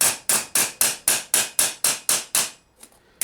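A hammer tapping fluting into a steel gothic gauntlet, nine sharp, evenly spaced metallic strikes in quick rhythm, close and clear, then a pause with a couple of faint taps.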